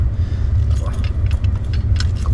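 A set of car keys jangles in short metallic bursts near a parked vehicle on a cold street, with a low steady rumble underneath and someone talking nearby.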